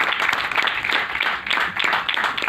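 Audience applause at a book launch event, dense steady clapping from a crowd filling the room, continuous and fairly loud with no voices over it.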